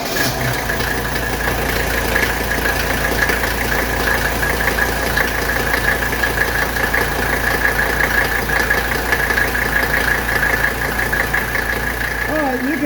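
A 1985 Mercedes 300D diesel engine idles steadily and loudly nearby, with a constant rattling clatter and a droning hum while it warms up, a voice speaking over it.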